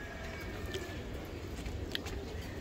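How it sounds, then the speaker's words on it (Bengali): Soft, low cooing from a napta pigeon, a domestic breeding bird, faint and close against a steady background wash with light music. "এটা একটা নাপ্তা কবুতর,"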